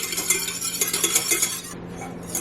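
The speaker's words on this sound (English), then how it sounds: "And whisk that in." Whisking honey into a reduced grapefruit juice in a pan, with quick rhythmic metallic scraping and clinking of the whisk, close and steady throughout before easing off near the end.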